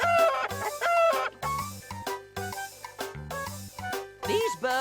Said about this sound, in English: These birds are chickens.